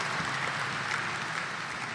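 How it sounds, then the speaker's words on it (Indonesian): Applause from an audience at a university gathering for the foundation chairman, a dense, even patter of many hands clapping at moderate distance. "tepuk tangan buat Dr."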